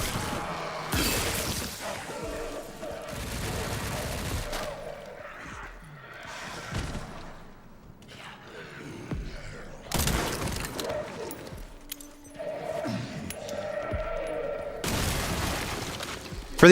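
Grenade blasts and gunfire in the Resident Evil Requiem game burst out in several loud, dense clusters separated by quieter stretches, heavy booms and crackling shots close up with a voice talking in the gaps.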